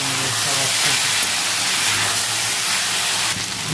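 Small peeled potato pieces frying with salt in a pan for a Bengali lau shak posto dish, giving a steady, dense sizzling hiss that stays loud and even throughout.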